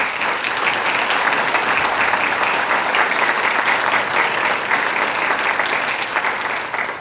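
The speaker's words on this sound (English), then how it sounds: "Please give them a round of applause." Sustained audience applause for sponsors at a law-enforcement appreciation luncheon, a thick, even roar of many hands clapping that holds steady throughout and tapers slightly at the end.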